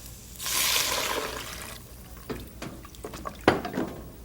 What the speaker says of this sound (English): Now we have to add our water.